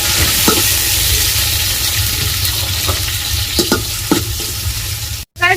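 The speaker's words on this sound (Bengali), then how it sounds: "এখানে আমার টমেটো আর লঙ্কা ভাজা হয়ে গেছে।" Chopped tomatoes and green chillies sizzle steadily in a hot pan while a spoon scrapes and stirs through them in irregular strokes, loud and close, with a brief cut near the end.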